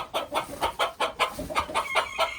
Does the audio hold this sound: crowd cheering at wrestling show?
no